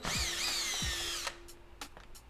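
A power drill whirs close by for about a second as it backs screws out of a Yale smart door lock, followed by a few faint clicks and taps of parts being handled.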